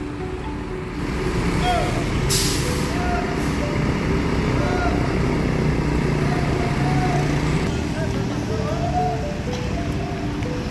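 A bus rumbles into the Agramas pool terminal in Wonogiri, a steady low engine drone close by with a brief hiss of air brakes. Other buses manoeuvre around it, and a voice talks over the noise.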